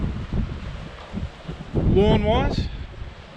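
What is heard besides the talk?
strong wind outdoors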